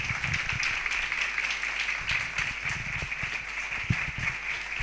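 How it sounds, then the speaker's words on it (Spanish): A lecture audience applauds a speaker, a soft, fairly distant patter of clapping that runs steadily throughout at low volume. "Enrique Ramos, un fuerte aplauso, muchísimas gracias."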